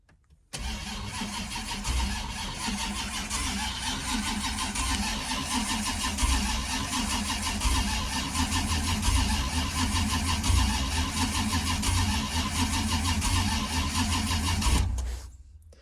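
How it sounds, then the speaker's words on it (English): An Oldsmobile Cutlass engine, unused for years, cranks over without firing, a loud, continuous rhythmic churn of the starter that holds steady for about fourteen seconds and then cuts off abruptly. "let's give it some more turns over and let this oil pressure rise again"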